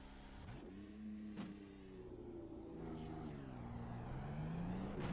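A race car in the sim racing game iRacing sets off, its engine note humming in layered tones that climb slowly and grow louder, with a few sharp clicks along the way and no voices.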